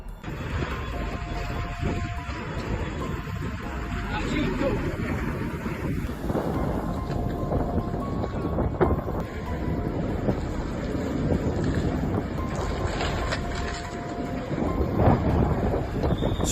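Strong wind buffeting through Capri Harbor, a loud continuous roar and rumble with gusting surges, and no talking.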